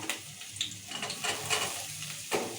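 Finely chopped chillies and onions frying in a pan until golden brown for desi-style pasta, a close, steady sizzle broken by several scraping stirs.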